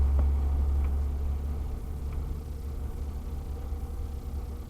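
A 2008 Crown Victoria Police Interceptor grinds up a snowy slope, its engine a deep, steady rumble that stays loud and close, swelling slightly and then easing back with no voices over it.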